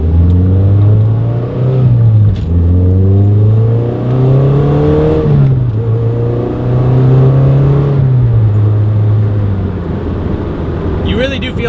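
A 2.5-litre engine-swapped NC Mazda Miata pulls hard at full throttle, its engine note climbing steadily through repeated gear changes, loud and up close from inside the car.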